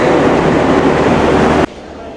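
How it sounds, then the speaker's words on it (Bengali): Trains standing at Ishwardi railway station, a large rail junction, give a loud, steady rumbling roar for well over a second before it cuts off abruptly to a much quieter background. "এই যে ঈশ্বরদী রেল স্টেশনে ট্রেন দাঁড়ায় রয়েছে"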